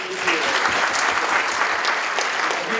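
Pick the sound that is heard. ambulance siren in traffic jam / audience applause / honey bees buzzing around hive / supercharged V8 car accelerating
audience applause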